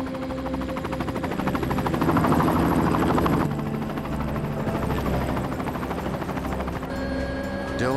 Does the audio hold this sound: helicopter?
yes